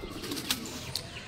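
A pigeon held in one hand gives a brief, soft coo close by, with a couple of quick chirpy notes over a quiet background.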